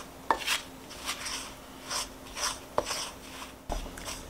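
Flour is stirred into a thick peanut butter bread batter, giving soft rasping scrapes and occasional knocks of a spoon against the bowl in a slow, irregular rhythm, close and fairly quiet.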